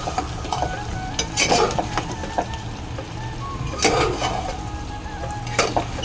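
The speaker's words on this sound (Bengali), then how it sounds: "এবার আর একবার ভালো করে কষবো" Goat curry with raw potatoes is stirred and sautéed in a pan, giving a soft steady sizzle broken by several sharp scraping, clattering spoon strokes.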